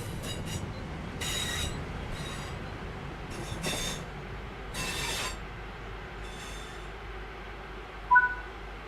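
A train in the Train Simulator 5 video game brakes, with repeated bursts of hissing air-brake release and a low rolling rumble, quiet and fairly near, with no talk.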